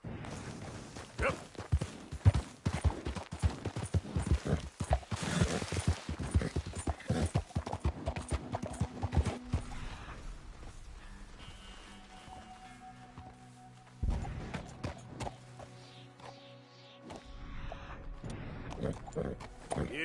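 Horse hooves clop in a rapid galloping rhythm in Red Dead Redemption 2, loud at first, then easing into a busier stretch with in-game ambience and brief musical tones later on.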